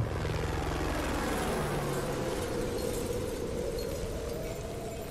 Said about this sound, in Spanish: Un helicóptero que va full, ¿eh?